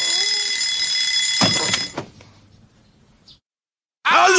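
An alarm clock rings loudly and steadily for about a second and a half, then stops with a few knocks and clatters before a short silence and a new loud sound at the end.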